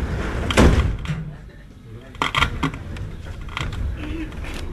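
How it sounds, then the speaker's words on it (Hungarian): Budapest Metro M3 train doors closing, with a loud thump early on and a second clatter a moment later beneath a recorded announcement voice and steady train rumble. "Szíveskedjenek vigyázni, az ajtók záródnak."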